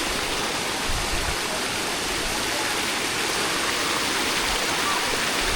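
Hot spring water on the Mount Gede trail rushes in a steady, dense stream, loud and close with no pauses, and a faint voice surfacing briefly beneath the flow.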